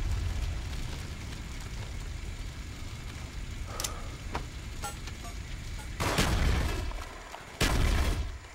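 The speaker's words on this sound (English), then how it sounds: "Enemy napalm strike incoming." Napalm strike explosions in Call of Duty: Black Ops on the Wii. A low rumbling roar runs throughout, with several sharp bursts and two heavy booming blasts near the end.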